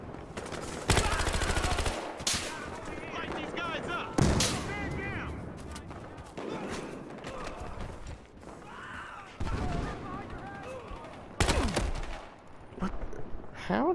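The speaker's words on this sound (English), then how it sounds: "How does Anakin just kill me with a pistol?" Gunfire in the Battlefield Hardline video game: sharp, loud shots and bursts go off repeatedly across the clip, mixed with game sound effects and bits of speech between them.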